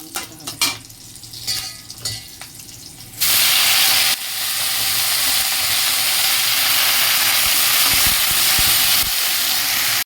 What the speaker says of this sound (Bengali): পটলগুলো ছেড়ে দিয়েছি পটলগুলো ভাজা হয়ে যাক